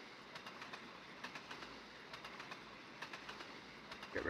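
An LNER Gresley P2 steam locomotive at about 94 mph in the Trainz railway game, heard as a faint, steady rolling rumble with soft clickety-clack beats and light intermittent chirps over it.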